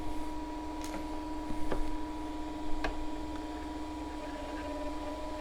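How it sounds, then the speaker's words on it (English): A FlashForge Creator 3D printer's cooling fan for the heat sink runs as a steady hum with a few faint ticks and clicks, heard close and fairly quiet with no speech. "this fan is supposed to cool that down with the heat sink"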